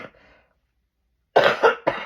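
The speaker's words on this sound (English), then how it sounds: "I really am so truly sorry about having a cough." A person coughs in two or three harsh, loud bursts at close range after a faint murmur, with a short silence before them.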